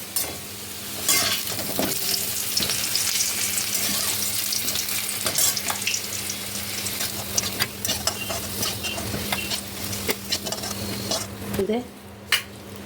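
Potatoes frying in oil in a covered pan while a mutton curry is prepared, a steady close sizzle with scattered clinks and scraping of utensils against the pan.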